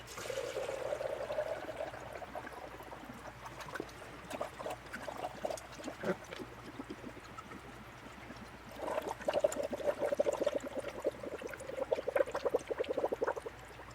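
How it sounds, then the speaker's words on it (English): Leftover coolant fluid poured back into a container during repair work on a Jeep Comanche, giving a steady, faint trickle and splash that runs on and off with a few soft knocks, no talking. "then you pour your remaining fluid back in your container"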